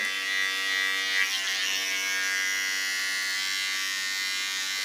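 Fine electric hair clipper trimming hair behind the ear during a pixie haircut, a steady close, continuous buzz with a strong hum that holds evenly throughout, with no talking.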